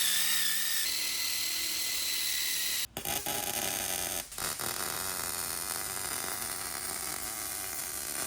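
Continuous loud grinding whine of a power tool cutting a metal piece at an angle during modifications to a 180 hp Honda three-wheeler, steady throughout with two brief dropouts midway, no voices.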